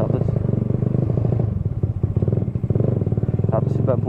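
A Supra motorcycle fitted with a Daytona 190cc engine idles on Shell V-Power fuel, a steady, close, rapidly pulsing putter with a little mechanical clatter that holds without revving.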